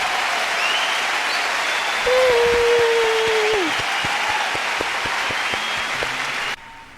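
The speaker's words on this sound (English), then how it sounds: "They probably just added in the crowd music at the end." Crowd applause and cheering, apparently dubbed onto the close of a 1970s rock song, sustained and fairly loud with scattered claps and a whistle-like tone, then cutting off abruptly near the end.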